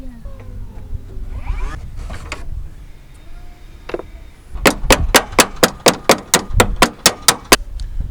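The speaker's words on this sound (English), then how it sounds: "Good old trusty hammer." A hammer strikes metal on a Cadillac about a dozen times in a steady, fast rhythm, loud and close, after a stretch of quieter handling and shuffling noises.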